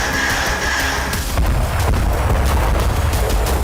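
Deep rumbling booms of wartime explosions in Ukraine roll through a dense, noisy background, with a sharp burst partway through and continuous low thunder.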